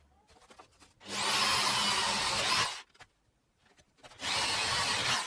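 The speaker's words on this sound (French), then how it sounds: "après on va venir les relier à l'aide de la scie sauteuse" A jigsaw cuts through wood to join two drilled holes, in two loud, steady bursts separated by a short quiet pause, close by with no talking.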